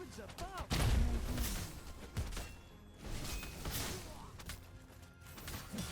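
Heavy booming cannon blasts and crashes from action in the video game Godsworn, with a loud impact near the start, over rumbling effects and a voice talking.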